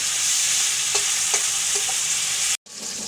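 Cumin seeds sizzling in hot oil, a loud, dense hiss close up with a few faint clinks, cutting out briefly near the end before the sizzle resumes.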